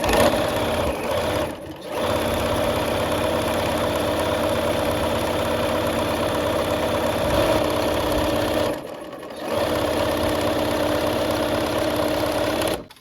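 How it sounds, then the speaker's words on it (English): A sewing machine runs at a steady, loud mechanical hum as it stitches red gingham fabric strips along their long sides, pausing briefly twice before resuming, with no voices. "we're just going to go ahead and sew along the long sides of this"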